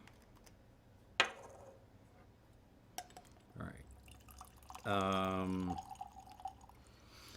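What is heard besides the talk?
baijiu being poured into glasses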